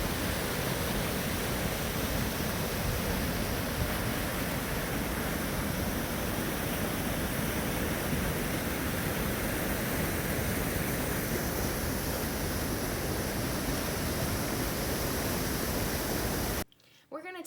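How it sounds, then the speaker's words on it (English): A very full creek in Kings Canyon rushes past in a loud, dense, unbroken roar of fast-flowing water close by, cutting off abruptly near the end. "Do you recognize this very full creek?"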